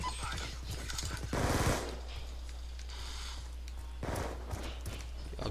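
Gunfire in Call of Duty Black Ops 2 during a Kill Confirmed match comes as a few sharp shot bursts against steady low game ambience, with no talk.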